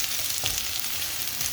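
Chicken fries in a karahi with a loud, continuous crackling sizzle close up, a few soft stirring scrapes mixed in and no speech.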